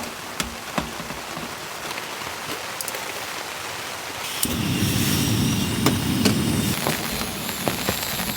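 Heavy rain drums on a compact camper van, a steady dense hiss of drops that swells louder partway through into a fuller roar on the roof, with occasional sharper hits and no voices.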